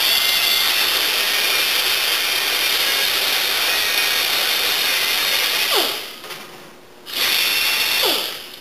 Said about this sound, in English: abrasive brush, similar to like you find on your dish scrubber, only this is a lot heavier duty, and it'll take this paint off really quick without harming the steel